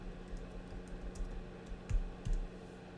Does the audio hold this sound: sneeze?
no